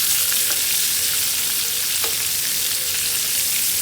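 Steaks sizzling in a stovetop pan while being basted with garlic and thyme, a steady loud hiss and crackle with small spatter pops throughout, close up and without voices.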